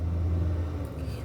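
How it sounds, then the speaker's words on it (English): A passing truck rumbles loud and low, a steady deep roar heard briefly as it goes by. "The truck just went by."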